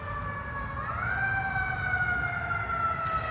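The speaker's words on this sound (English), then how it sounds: "Every time I listen to the sirens, like see a ambulance go by" An emergency vehicle siren, likely an ambulance or fire truck, wails steadily and loud through the whole stretch, its pitch rising slightly partway as it passes close by over a low traffic rumble.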